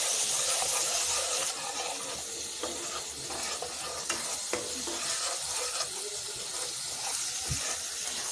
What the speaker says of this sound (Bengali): মশলাটা কষানোর জন্য আমি পানি দিয়েছি।